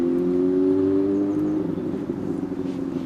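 A car engine hums loudly and close on a one-way town bridge as the car drives the wrong way, the steady droning tone fading a little and turning rougher midway.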